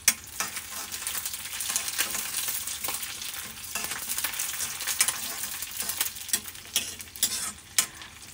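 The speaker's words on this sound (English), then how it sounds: "Then I'm going to add this curry leaves." Curry leaves hit hot oil for a mango curry tempering, bursting into a loud, close sizzle with sharp spitting pops and a few scraping stirs across the pan, and no voices.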